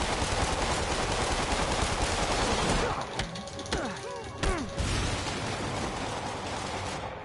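Heavy gunfire in Marvel's Spider-Man, rapid loud shots rattling densely for a few seconds, a brief lull with scattered impacts, then another sustained burst of firing to the end.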